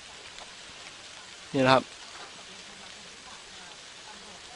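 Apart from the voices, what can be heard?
automatic sprinkler spraying water on plants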